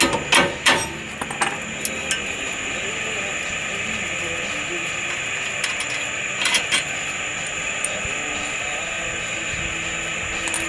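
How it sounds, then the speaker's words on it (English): A hammer taps a bolt out of a Ford Windstar control arm: a few sharp metallic knocks early, with more near the middle, over a steady background hum. "we're going to put the nut back on and tap that bolt out"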